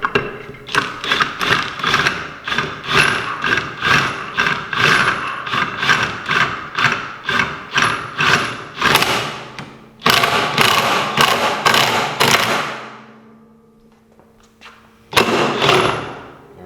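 A power drill loosens the governor cup screw on a Can-Am X3 primary clutch while a KWI clutch kit is installed, giving a rapid, loud ratcheting impact chatter in repeated bursts, then a brief pause and one final short burst.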